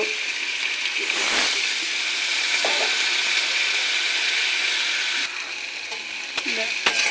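Masala paste for a dried fish chutney frying in a pan, a steady broad sizzle with occasional stirring scrapes, close and continuous throughout.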